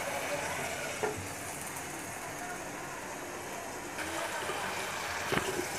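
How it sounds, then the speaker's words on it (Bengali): Potatoes stirred and sautéed in tomato masala for a shing fish and small potato curry make a steady, moderate sizzle of frying, with a few scraping stir knocks near the start and end. "এখন আলুটা দিয়ে ভালো করে নেড়ে চেড়ে তারপর আমি এটা কষাবো"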